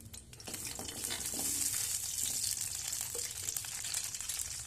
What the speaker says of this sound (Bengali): তেলটা গরম হয়ে গেছে, দিয়ে দেবো গোটা জিরে, আলু